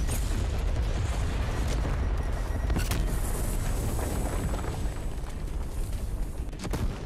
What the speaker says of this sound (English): I'm just gonna hit the nuke now.